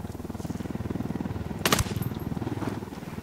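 A helicopter in the video game Ghost Recon Wildlands thumps with a steady, fast rotor pulse throughout, and a sharp burst of noise cuts in partway through.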